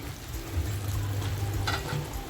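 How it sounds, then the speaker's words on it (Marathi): Masala simmering over a low flame in a clay pot for a spicy shevandi (lobster) curry with softened tomato, giving a steady soft sizzle and bubbling close by, with a brief stir midway. "पाच मिनटं बघा मंद आचेवर मसाला छान असा शिजून देते"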